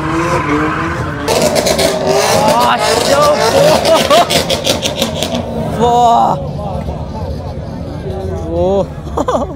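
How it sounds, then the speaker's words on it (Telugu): Supercars drift during a session at a large supercar and superbike event in Hyderabad, with loud sustained engine revving, tyre squeal and skidding over a noisy crowd babble, the roar dropping slightly after the midpoint. "ఇప్పుడు డ్రిఫ్టింగ్ స్టార్ట్ చేశారు అనమాట"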